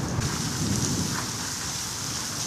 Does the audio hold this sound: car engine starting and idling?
no